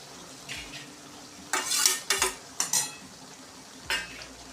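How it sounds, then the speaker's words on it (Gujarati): A spoon stirs grated tomatoes with coriander-cumin powder and other spices in a pan for Kathiyawadi sev tameta shaak, giving a few quiet scrapes and a handful of sharper clinks against the metal in short bursts. "હવે આપણે બધું મિક્સ કરી લઈશું"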